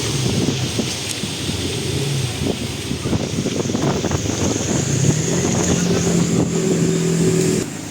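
Strong, steady typhoon wind roars and buffets the microphone throughout, with a continuous rushing noise and some low rumbling underneath.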